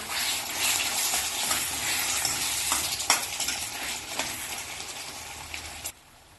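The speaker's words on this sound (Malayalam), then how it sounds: "ഇതൊന്ന് ഇളക്കി കൊടുക്കാം." Cooked prawns being stirred in a pan for sambal, with a dense sizzle and repeated scraping and clinking of a utensil against the metal, close and steady before the sound cuts off near the end.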